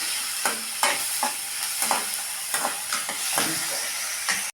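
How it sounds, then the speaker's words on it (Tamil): Radish pieces sizzle steadily in a hot pan while being sautéed for sambar, with loud, continuous frying hiss broken by repeated close stirring scrapes. "முள்ளங்கி போட்டு நல்லா வதங்கிட்டு இருக்குதுங்க."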